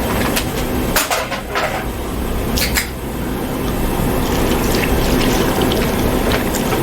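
Four cups of water pour and splash steadily into a pot outdoors for beef and barley soup, for several seconds, with a few clanks at the start.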